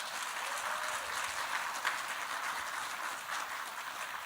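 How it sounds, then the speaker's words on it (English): Audience applause at a library author event, a steady wash of clapping from a room full of people, sustained and fairly even throughout with no talking over it. "a round of applause for them"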